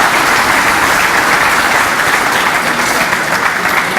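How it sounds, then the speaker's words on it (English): An audience at a fundraiser gives a round of applause, steady dense clapping filling the hall at close range, loud and continuous throughout. "So give them a round of applause for all the work that they are doing"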